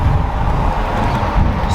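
A car passes close by with a low rumbling whoosh that swells and fades over a couple of seconds.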